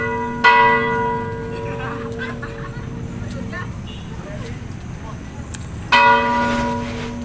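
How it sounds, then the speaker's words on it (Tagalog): An afternoon church bell in a Philippine town rings out with a loud strike, its tone lingering and fading, then strikes again later over background chatter and passing traffic. "Tumutunog kasi ang kampana kasi ganito talaga pagdating ng hapon dito sa bayan sa Panitaan."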